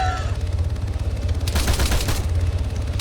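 Rapid gunfire in the military game Arma 3, including a .50 caliber sniper rifle, a dense burst of close, loud shots crackling together midway through a rumbling battlefield backdrop.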